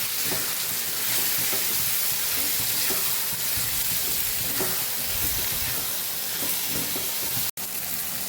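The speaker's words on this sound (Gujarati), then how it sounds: "હવે બધું સાથે ઉમેરી અને સાતળી લેવાનું છે।" Ridge gourd sautéing with spice masala in a pan gives a loud, continuous sizzle and crackle, with a brief click near the end and no voices.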